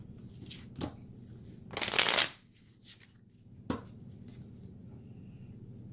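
A deck of tarot cards riffles in one loud, close shuffle, with a few softer card taps and flicks before and after in a quiet room.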